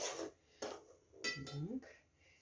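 A spoon scrapes and clinks against a bowl while salt is stirred into a mixture, in a few short quiet bursts with rubbing strokes between them.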